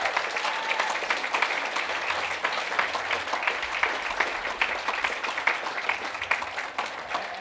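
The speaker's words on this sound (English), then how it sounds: "let's give a big round of applause for Robert Eagleson." An audience applauds a professor at an evening event, steady dense clapping that holds at an even level for the full length, with faint voices and cheers mixed in.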